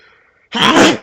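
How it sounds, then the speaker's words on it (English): A single loud, close sneeze bursts out abruptly after a moment of near quiet and ends within half a second. "I gotta sneeze."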